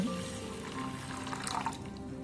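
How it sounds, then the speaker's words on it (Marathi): Water pours steadily into a pot, a continuous close splashing gush that keeps going without a break. "एक तांब्या भरून पाणी"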